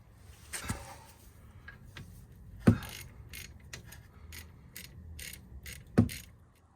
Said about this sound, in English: I've gone ahead and tightened all the bolts up for the caliper and the yoke to the caliper